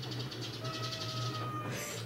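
A cat meows indoors: a drawn-out, fairly loud, strained cry that rises toward the end, heard close and alone with a faint low hum underneath.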